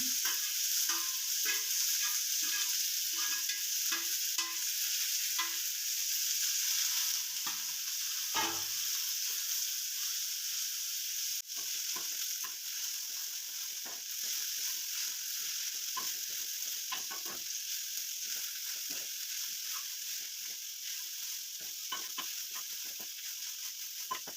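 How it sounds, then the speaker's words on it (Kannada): Jackfruit curry with grated coconut and coriander leaves fries in a pan, a constant bright sizzle with repeated scraping stirs of a spoon, loudest early on. "ಇದು ಇವಾಗ ಎಲ್ಲನೂ ಫ್ರೈ ಆಗಿರೋದಾಗಿದೆ"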